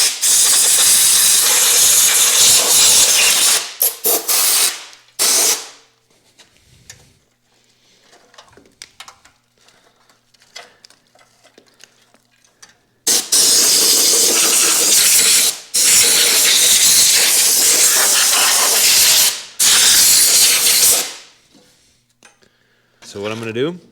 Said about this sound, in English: I'm going to take the air hose and clean some of the loose stuff off.